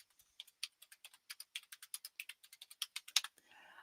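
Rapid keystrokes clatter on a computer keyboard, a quick uneven run of crisp clicks that ends with a louder tap and a brief soft rustle.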